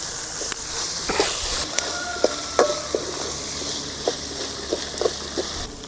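Onions sautéing in a pan with asafoetida, dried red chillies and ginger-garlic paste for a cowpea curry, a soft steady sizzle broken by sharp clicks and taps of a spoon stirring against the pan.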